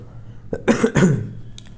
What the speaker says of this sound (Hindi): सॉरी मैं ज़रा माफ़ी मांगना चाहता हूँ खांसी की वजह से अपनी